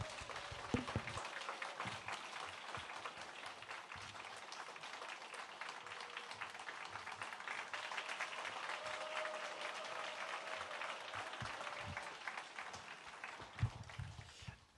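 A church youth worship congregation applauds to welcome a pastor onto the stage, a long, sustained burst of many hands clapping in a large room, steady throughout and tapering off at the very end.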